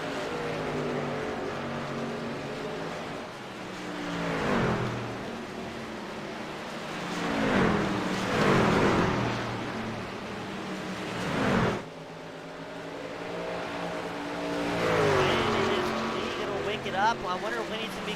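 Race trucks in a PC racing game's Truck Series race at Phoenix, their engines swelling and fading as they pass, while a commentator talks over the action throughout.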